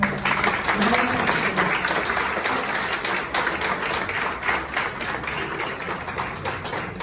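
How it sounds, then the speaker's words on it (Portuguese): A round of applause fills the hall at an academy induction ceremony, a steady, dense clatter of many hands clapping throughout, moderately loud and sustained without pause. "Uma salva de palmas para nós."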